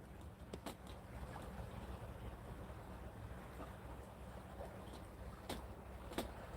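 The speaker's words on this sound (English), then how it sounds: "A speedboat, nice." A speedboat on open water off Fiji, a steady low engine drone and water rush heard from a boat deck, with wind buffeting the microphone and a few sharp knocks.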